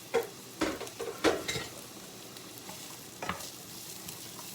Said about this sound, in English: I'm going to saute my onions and my peppers.